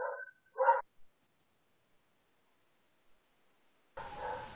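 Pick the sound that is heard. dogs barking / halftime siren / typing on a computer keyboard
dogs barking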